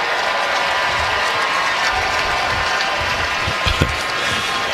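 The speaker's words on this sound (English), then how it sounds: "Nice round of applause for Justin Turner" A baseball stadium crowd applauds during a Cubs–Dodgers game, a broad, even wash of distant clapping and crowd noise with a couple of faint knocks near the end.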